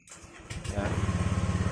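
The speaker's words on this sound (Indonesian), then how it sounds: "ini motor bisa hidup" A Honda Vario 125/150 scooter engine cranks and catches after an electrical fuse-box repair, then settles into a steady, close idle with a quick rhythmic putter and no speech.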